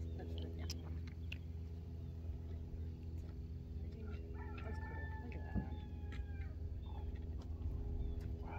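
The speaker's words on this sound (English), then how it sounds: "You hear the rooster?" Rooster crowing in the distance at an outdoor spot in Indiana during the 2024 total solar eclipse, faint sweeping calls rising over a steady low hum and ambient background noise.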